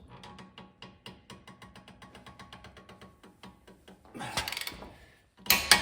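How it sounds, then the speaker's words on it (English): A torque wrench ratchets in quick repeated clicks while tightening a CV axle nut on a 2005 Lexus ES330, close and fairly quiet, ending in louder clattering and metallic bursts. "we got both axle nuts torqued down to 217 foot-pounds"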